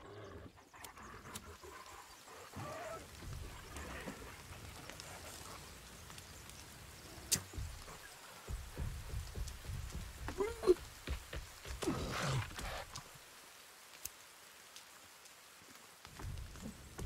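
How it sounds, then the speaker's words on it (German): Soft, steady rain hiss in the video game The Forest, with occasional louder thumps and a low creature roar in the background. "Oh, jetzt regnet es auch noch."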